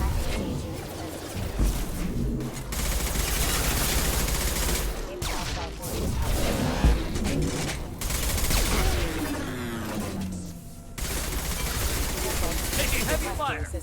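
Heavy gunfire in a Mass Effect 2 firefight against hostile mechs at a colony, dense bursts and rattling shots running almost continuously under game music and shouted voices.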